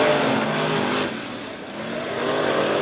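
Race cars on a small oval speedway at Monett Motor Speedway roar along the back stretch together, a steady loud engine drone with broadband noise that dips slightly mid-way before swelling again as the pack passes.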